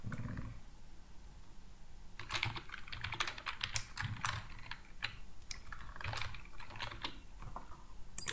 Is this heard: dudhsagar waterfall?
no